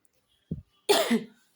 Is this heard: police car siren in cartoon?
no